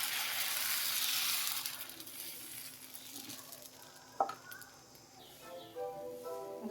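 Oats dosa batter poured onto a hot pan sizzles loudly at first, then the hiss settles to a softer, steady frying crackle, broken by a sharp clink near the end; no one speaks.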